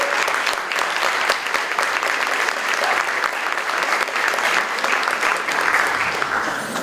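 A literary event crowd keeps up a full, continuous round of applause, loud and dense throughout, many overlapping claps blending into a steady roar.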